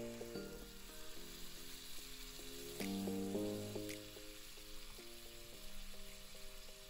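Spice paste for a paneer curry fries in a pan with a strong, continuous sizzle and hiss, heard under background music with a few sharper spikes from stirring.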